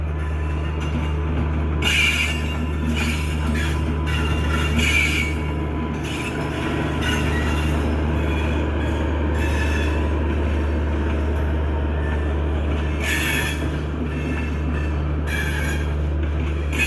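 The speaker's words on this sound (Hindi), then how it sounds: "ये देखिए दोस्तों, उस तरफ से दिल्ली से किसी की ट्रेन का डिपार्चर हो रहा है।" A passenger train, the Uttar Sampark Kranti express bound for Shri Mata Vaishno Devi Katra, departs New Delhi station with a loud, steady rolling rumble, interrupted by repeated bursts of high wheel squeal and metallic clatter.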